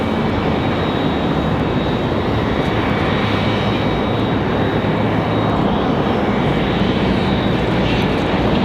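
A UPS cargo airplane rolls along at Raleigh-Durham airport, a loud, steady broadband jet roar that fills the whole stretch without letup, with no voices.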